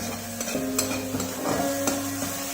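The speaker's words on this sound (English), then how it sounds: "We have to just lightly saute it, we don't have to brown them." Grated garlic lightly sautéing in a pan, a soft steady sizzle with occasional stirring scrapes, close and fairly quiet.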